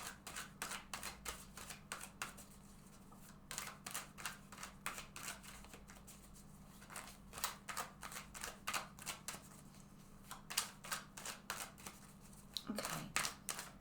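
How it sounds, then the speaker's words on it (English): Tarot cards are shuffled repeatedly in quick riffling bursts, close and crisp, with short pauses between each round of shuffling. "I'm going to shuffle this deck several times."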